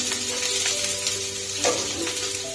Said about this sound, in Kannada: ಬೆಳ್ಳುಳ್ಳಿ ಎಲ್ಲ ಚೆನ್ನಾಗಿ ಫ್ರೈ ಆಗೈತೆ ಅದು ಆಗಬೇಕು